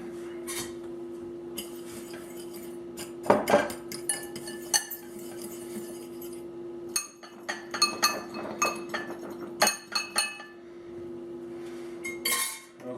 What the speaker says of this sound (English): some of this Cooking with Kade Cajun seasoning to our panko breadcrumbs. Let's get it really in there. We're going to mix that up.